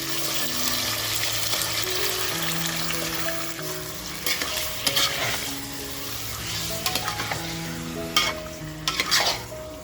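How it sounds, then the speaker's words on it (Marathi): Mutton pieces frying in hot oil in a pan, a continuous sizzle with stirring and clattering of a spoon against the pot, some louder scrapes toward the end, no voices. "आता जे आपण मटण घेतलं आहे ते मटण तेलामध्ये आपल्याला छान असं फ्राय करून घ्यायचं आहे."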